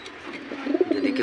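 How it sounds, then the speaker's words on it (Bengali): A pigeon's low rolling coo swells briefly, close by, over a faint background hiss. "অনেক সুন্দর ডাকে কবুতরটা।"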